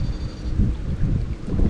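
Wind buffets a microphone outdoors beside a duckweed-covered pond, making a low, rumbling, gusting roar that swells and fades in uneven pulses with no speech.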